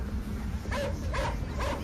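Dogs barking three times in a steady rhythm, fairly close, over a constant low background rumble, with no clear panting audible.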